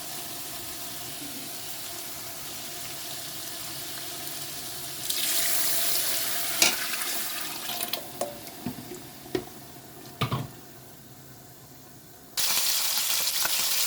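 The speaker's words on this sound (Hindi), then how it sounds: "5-6 मिनट के लिए अच्छे तरीके से इसमें फ्राई करूँगी" Mutton sizzles in a pot with a steady hiss that swells louder when stirred or disturbed, broken by clinks and knocks of a utensil against the pot.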